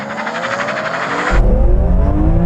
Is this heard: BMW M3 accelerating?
yes